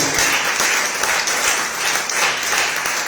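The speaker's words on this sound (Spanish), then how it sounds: "Denle un fuerte aplauso al Rey de Reyes." A church congregation claps loudly in sustained, dense applause during a worship service, with a steady roar of many hands and no break.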